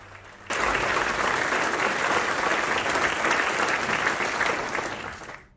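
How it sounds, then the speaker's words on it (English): Members of parliament break into loud, sustained applause that starts abruptly and fills the chamber, holding steady before trailing off at the end. "Members of parliament welcomed him with applause."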